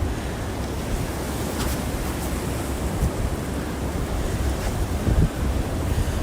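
Ocean surf breaks and rolls continuously at first light on Christmas morning, a broad, steady wash heavily buffeted by wind rumbling across the microphone.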